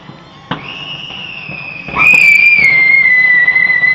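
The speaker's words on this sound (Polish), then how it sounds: "Fajerwerki!" New Year's fireworks at midnight greeting 2022: a sharp pop, then a long rising whistle of a rocket followed by louder crackling bursts, moderately near.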